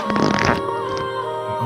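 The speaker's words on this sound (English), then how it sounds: "That was the fart cloud sound effect." A cartoonish fart cloud sound effect from a Gacha series episode gives a loud, buzzy, sputtering burst that fades into a wavering tonal tail, heard alone.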